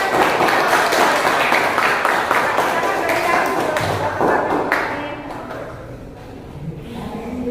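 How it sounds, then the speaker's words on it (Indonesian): A class of students claps together for several seconds, a dense burst of applause that tapers off, followed by quieter classroom noise and a little talking. "kalau sudah sama, kita beri tepuk tangan."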